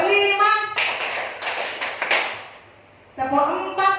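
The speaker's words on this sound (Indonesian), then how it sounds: "Coba Bapak Ibu sekarang tepuk tangan lagi untuk mencairkan suasana." A group claps out a quick rhythmic 'tepuk 5' pattern, a short burst of sharp, close hand claps, with a person talking just before and after.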